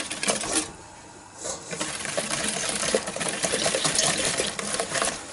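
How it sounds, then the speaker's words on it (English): Metal whisk scraping and clinking steadily in a pot of sugar, lemon and egg mixture for lemon butter, a busy close-up rattle with a brief quieter pause near the start. "The idea is to keep whisking here just in case you don't want anything to cook"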